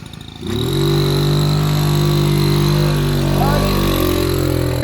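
A vintage Peugeot 102 moped, running low on fuel, fires on the first kick. Its engine catches after a brief pause and settles into a loud, steady, close-up running note, with voices in the background.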